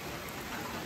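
Steady rain falls outdoors near a trapper's cabin, a dense even hiss with soft patter filling the whole moment, fairly close and constant, no voices.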